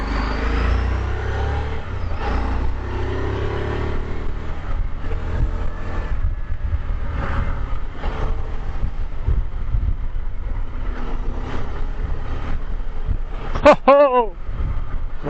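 Steady engine drone and wind rush from a moving motorcycle fill the whole stretch, with a brief warbling tone near the end.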